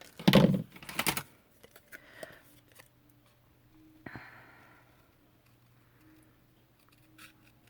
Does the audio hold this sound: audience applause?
no